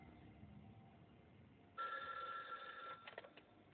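A telephone rings in a Punjabi-dubbed scene: after quiet room tone, a sudden loud electronic ring starts and holds for about a second, then breaks into a few quick, choppy pulses.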